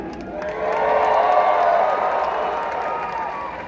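A large crowd roars and cheers at a live outdoor jousting show, a loud swelling wave of voices with whoops that builds, peaks, and slowly eases off.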